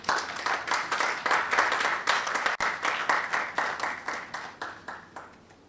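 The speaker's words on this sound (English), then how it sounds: "Another round of applause for him." An audience applauds at a launch ceremony for a national science and maths quiz, dense clapping from many people that swells, holds steady, then thins out toward the end.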